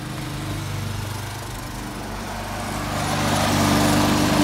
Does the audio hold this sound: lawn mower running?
yes